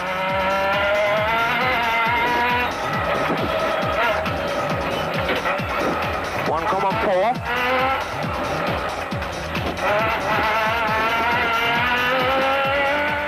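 A Nissan Navara off-road race truck roars through an Eastern Cape 500 rally stage in 2008, its engine loud and continuous with rising and falling revs and occasional tyre scrabble.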